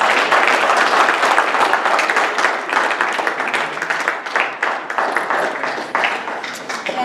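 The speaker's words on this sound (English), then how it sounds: "let's have a round of applause for Lucy" A loud, dense round of audience applause at an Earth Week sustainability event, steady clapping from many hands filling the room throughout with no talking over it.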